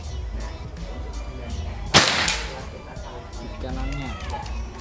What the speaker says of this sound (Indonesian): Sekarang tembakan yang kedua buat tes akurasi yang pertama.